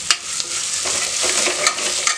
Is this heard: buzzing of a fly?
no